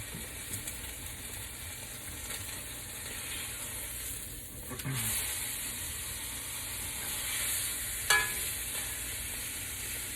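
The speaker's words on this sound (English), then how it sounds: "Giving this one more good sear on each big side." A pot roast sears in a hot pan with a continuous low sizzle. A brief scrape and clunk come partway through and a sharper knock near the end, with no talk.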